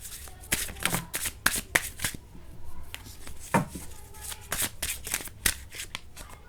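Tarot cards are shuffled by hand close up, with repeated crisp riffling bursts and soft card slaps in an uneven rhythm.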